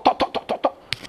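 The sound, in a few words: man imitating a hen clucking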